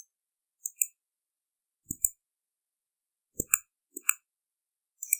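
A computer mouse clicks in sharp pairs, with four or five separate double-clicks spread across a quiet background and no other sound between them.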